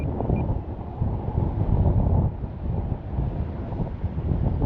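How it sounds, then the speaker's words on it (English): Strong wind buffets the microphone outdoors at a model jet flying field, a continuous low rumbling roar that swells and eases without pause. "There is a nice gust"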